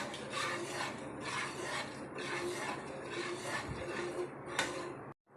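A spoon stirs beaten rice payasam in a pot, giving a steady rasping scrape that rubs on continuously and fairly close, with no talk over it.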